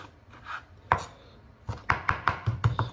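Knife chopping fresh dill very finely on a board for sea bass fish patties, a quiet lead-in followed by a sharp cut and then a quick regular run of crisp, close chops.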